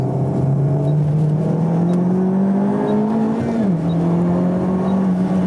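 A front-wheel-drive car accelerates hard around the Tsukuba circuit, engine note climbing steadily under throttle, briefly dipping at a shift before droning on loud and close from onboard.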